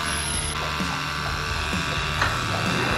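An electric clipping machine shears a horse's coat in a stable, giving a steady, close buzzing hum with faint scraping textures throughout and no talk.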